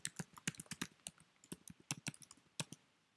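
Fingers type on a computer keyboard in a quick, irregular run of soft, close key clicks, faint and alone.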